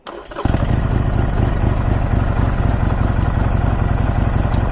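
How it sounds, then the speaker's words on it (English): Harley-Davidson Sportster 48 Special on its stock exhaust starts with a brief crank, then catches and settles into a loud, close, lumpy V-twin idle that thumps on steadily for several seconds. "So that's the bike at idle."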